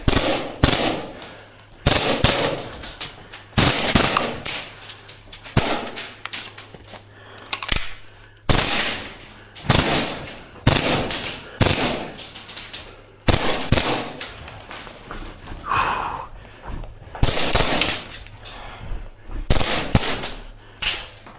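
A Krytac Maxim 9 airsoft gun fires rapid bursts during a timed gauntlet run, sharp mechanical rattling shots coming in repeated strings separated by short pauses, loud and close.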